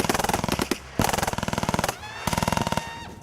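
MG-34 and MG-42 machine guns fire in several long, very rapid bursts separated by brief gaps, loud and close with dense, ripping reports.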